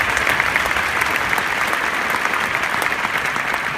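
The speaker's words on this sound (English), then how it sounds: "just another big round of applause for all the organizers" Loud, steady applause from a conference keynote audience for the event organizers, a dense wash of clapping that runs unbroken throughout.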